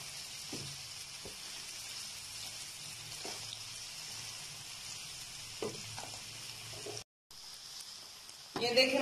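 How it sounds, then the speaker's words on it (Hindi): Button mushrooms and onions fry in a pan with a soft, steady sizzling hiss, broken by a few light scrapes of stirring, while a person talks quietly over the cooking. "इसको हिलाते रहना है, ये ना हो कि एक जगह से पक जाए और दूसरी जगह से कच्चे रह जाए।"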